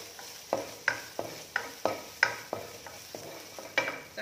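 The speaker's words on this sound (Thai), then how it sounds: "หมูก็คั่วเหมือนกันค่ะ ไฟกลางค่อนข้างอ่อนค่ะ" Pork is stir-fried in a pan over medium-low heat, a spatula scraping the pan in regular strokes about every third of a second over a faint sizzle, close and without talk.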